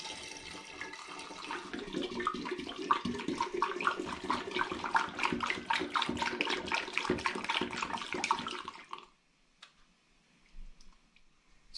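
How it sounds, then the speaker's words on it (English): Apple juice pours steadily through a funnel into a glass demijohn for about nine seconds, a continuous gurgling splash that stops abruptly, followed by a few faint clinks and handling sounds. "pouring some apple juice through a funnel into my demijohn"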